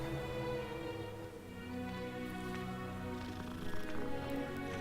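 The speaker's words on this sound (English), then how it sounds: "Oh, there's another cat." A cat purrs in the video game Hogwarts Legacy, a low steady rumble mixed under dense game music and ambience.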